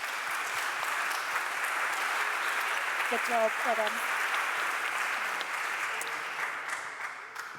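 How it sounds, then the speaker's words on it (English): Audience applause after a talk at a scientific general meeting, steady and sustained for most of the clip and tapering at the end, with a brief spoken voice heard over the clapping. "can we have another round of applause for Amanda and her wonderful talk?"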